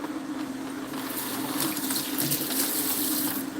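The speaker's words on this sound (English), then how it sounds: "Just to wash off my juicer." Tap water runs steadily and loudly as a juicer is rinsed in a sink, a continuous splashing gush with no pauses.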